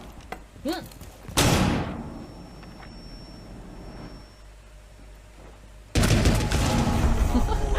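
A surveillance camera is destroyed in the tactical shooter Rainbow Six Siege: a sharp, loud boom that rolls off into a fading rumble, then a second dense, noisy burst of game action near the end.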